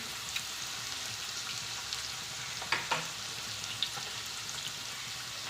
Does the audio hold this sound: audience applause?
no